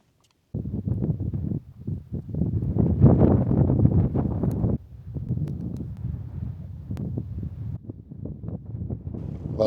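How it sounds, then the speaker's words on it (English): Wind gusts across a mountain wild campsite at dusk, buffeting the microphone in loud, uneven rushes that rise and fall over several seconds, heard alone without talk. "apart from the wind, of course, it is getting up and it's fairly chilly outside"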